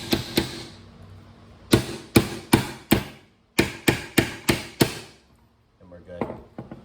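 Sharp metallic hammer taps ring out in quick clusters, about a dozen blows with brief pauses between groups, close and clear, driving a pin into a Panzer EG240 shotgun receiver.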